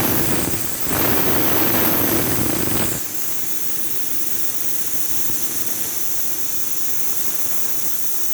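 An air compressor, newly wired up and idle for four or five years, runs with a loud roaring hiss that drops abruptly to a steadier, quieter hum partway through and continues alone.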